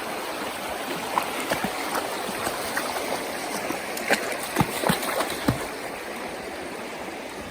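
Creek water, running high after rain, rushes and burbles continuously nearby, with scattered small splashes rising above the steady flow.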